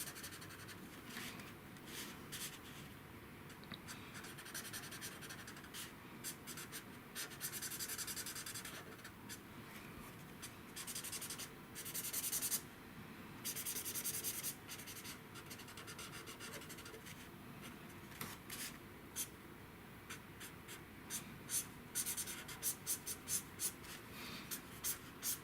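A pencil or pen scratches and rubs across paper during a live drawing session, with steady strokes and bursts of quicker scribbling, close and fairly quiet.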